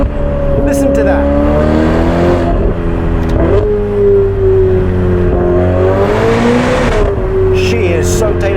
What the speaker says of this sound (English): That exhaust system is perfection. Listen to that.